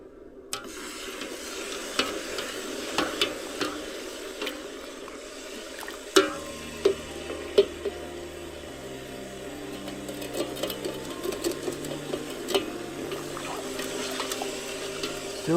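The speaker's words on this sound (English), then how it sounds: "Take my giant slotted spoon and just mix it around." Raspberry wine must being stirred with a giant slotted spoon, a soft continuous swishing and scraping with occasional knocks of the spoon against the container, and a low hum running through the latter half.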